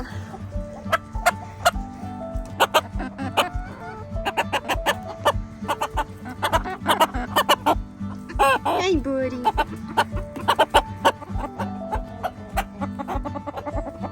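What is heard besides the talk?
broody hen clucking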